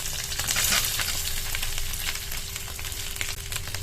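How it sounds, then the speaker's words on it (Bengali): Ginger and green chillies frying in oil in a pan, a close, steady crackling sizzle with small spattering pops and faint stirring, no voices. "আদার কাঁচা লঙ্কাটা হালকা একটু ভাজা ভাজা হয়েছে"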